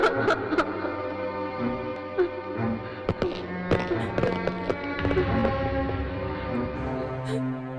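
Gunfire in a Hindi-dubbed South Indian action film: several sharp, cracking shots scattered across a loud, sustained dramatic music score, with brief bursts of rapid bangs in the middle.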